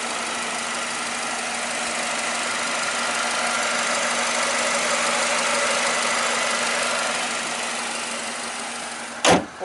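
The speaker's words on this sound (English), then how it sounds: "So it is a petrol, very quiet and smooth sounding engine." A Mercedes SLK 250 BlueEfficiency petrol engine idling smoothly and quietly at close range, a steady even hum with a brief thump near the end.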